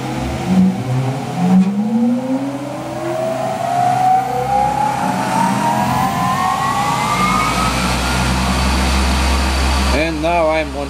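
A spindle motor driven by a variable frequency drive spins up to 4000 RPM over a couple of seconds, its whine climbing steadily in pitch and then holding a loud, even electric hum with a constant drone underneath.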